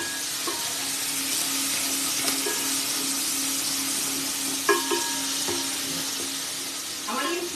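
Diced garlic, a quarter cup, fries in a pan with a steady hiss of sizzling oil, close and continuous, with occasional scrapes of stirring and faint speech in the background.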